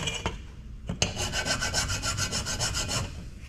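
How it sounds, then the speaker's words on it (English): Quick scratch test on a light aluminum heatsink pulled from a Dell Optiplex 980 computer: a couple of sharp ticks, then a steady rasping scrape of close metal grating for about two seconds, alone with no talk. "We'll give it a scratch test real quick."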